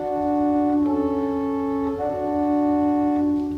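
Pipe organ accompaniment registered on the open diapason of the great, sustained chords held steadily and fairly loud, changing smoothly twice, with no voices.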